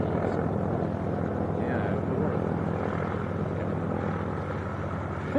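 A Robinson R44 helicopter starting up at a small airfield, tucked behind fuel tanks: a steady, dense engine and rotor drone that holds loud and even throughout, with no pauses or separate beats.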